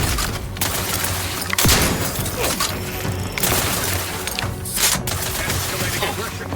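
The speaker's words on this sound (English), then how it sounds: "Grenade detonation!" A grenade detonation in The Outer Worlds 2 lands as a sharp, loud burst amid rapid gunfire and crashing impacts, with a few explosive hits over dense combat noise and faint voices.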